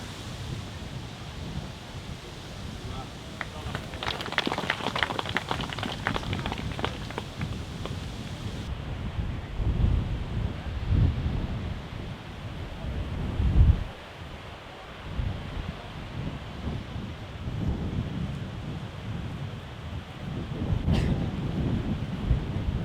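Steady outdoor wind buffeting a microphone on a disc golf course, a continuous low rumbling roar with gusty swells throughout and a few faint higher rustles, no clear voices.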